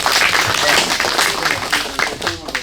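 At a strawberry-farming lecture, an indoor audience bursts into brief, dense applause to welcome the speaker, many hands clapping close together in a loud rattle over a couple of seconds.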